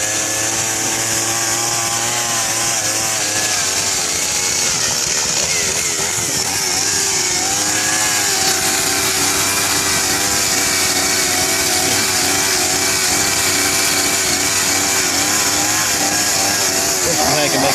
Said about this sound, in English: And here we got a little chainsaw art going on.